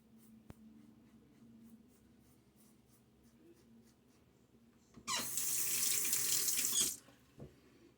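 Tap water gushes loudly for about two seconds while a razor is rinsed during a wet shave, then cuts off, with quieter handling noise before and a brief clink after.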